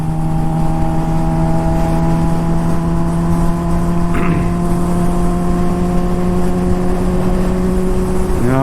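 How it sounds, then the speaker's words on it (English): Honda CBR600RR sport motorcycle fitted with a Toce aftermarket exhaust, cruising at steady speed with a loud, continuous engine drone and exhaust note, a brief shift in pitch midway and a rising rev near the end, with wind noise. "This is actually my first time riding my bike with the exhaust installed"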